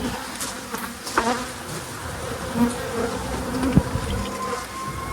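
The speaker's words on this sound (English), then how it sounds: "This is what it looks like when bees are ticked off at you" Agitated honeybees drone in a dense, steady buzz around an opened hive being reworked by the Demaree method, with individual bees zipping close past now and then.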